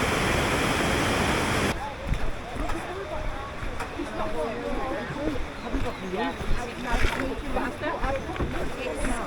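A waterfall in the Berwyns, Wales, gives a continuous rushing roar, with a person talking over the steady water noise.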